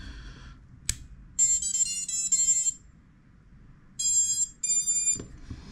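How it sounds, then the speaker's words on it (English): Startup tones from the ESCs of a freshly built 5-inch freestyle FPV drone after a smoke stopper check: two bursts of clear, bright electronic beep melodies separated by a pause, loud and close with no talk. "I was pleasantly surprised to hear the different ESC tone"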